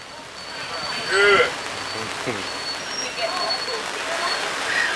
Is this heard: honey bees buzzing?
no